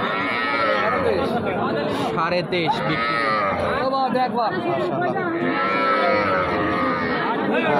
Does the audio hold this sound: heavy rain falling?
no